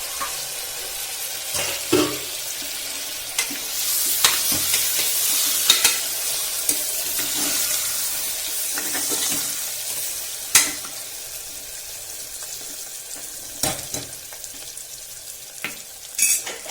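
Potatoes stirred in a frying pan with brinjals for a Gujarati stuffed brinjal-potato curry, a soft continuous sizzle broken by irregular spoon knocks and scrapes against the pan, no voices.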